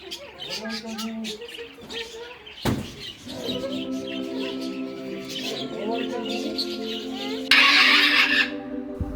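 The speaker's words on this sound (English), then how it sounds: "There was also a parrot enclosure." Parrots in a zoo safari park enclosure squawk and screech loudly, with harsh calls building into a sustained, shrill chorus close by.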